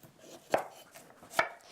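A kitchen knife trims the stem ends of broccoli in two crisp, close chops on a cutting board, with quiet gaps between them and no talking.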